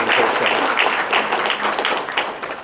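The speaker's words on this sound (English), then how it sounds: "So if we could give them a round of applause and thank them for their presentation." A public meeting audience applauds after subcommittee presenters finish, a brief, close burst of many hands clapping steadily, starting to taper near the end.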